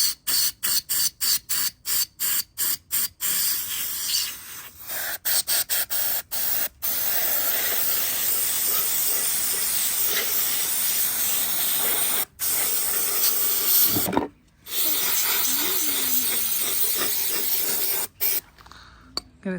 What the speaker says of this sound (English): I'm going to spray this in